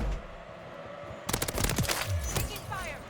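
Video game gunfire during a hardpoint match: rapid automatic bursts erupt partway through after a quieter stretch, fairly close, with overlapping shots layered on game ambience.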